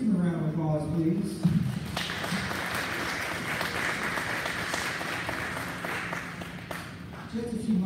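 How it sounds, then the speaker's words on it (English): An audience claps at a fifth grade school music concert in Hayward, a sustained round of dense applause between brief spoken words from a host at the start and end. "Let's give them a round of applause, please."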